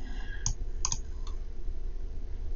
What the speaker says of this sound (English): I'm just going to keep clicking.